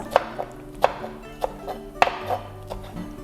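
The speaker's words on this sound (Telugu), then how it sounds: "చిన్నగా తరిగేసుకుంటాను మెంతి కూర" Fenugreek leaves being finely chopped with a knife on a board, sharp close knocks falling in an uneven rhythm about every half second, with no talking.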